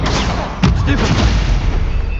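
In Hogwarts Legacy, a Stupefy spell lands as a single punchy boom-like hit with a short ringing tail, sitting within continuous background game ambience.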